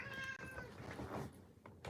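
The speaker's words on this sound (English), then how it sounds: "I don't need you meowing every 2 seconds" A male cat meowing indoors, a faint, drawn-out meow with harmonic tone near the start followed by softer, scratchy vocal sounds, quiet and close-ish against low background noise, no speech.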